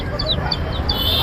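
Chickens clucking at a busy poultry market, several short bird calls close by over a steady crowd hubbub.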